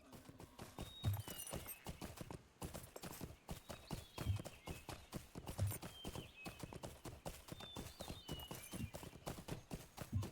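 Horse hooves clip-clop in the LOTRO video game, a close, regular run of hoof strikes with brief pauses, plus a few short whinnies.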